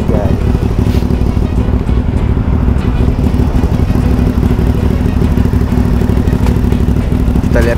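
A Suzuki Thunder 125 supermoto bored up to 400cc runs with a loud, close, steady engine rumble for the whole stretch, with a voice talking over it.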